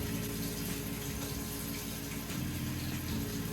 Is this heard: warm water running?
yes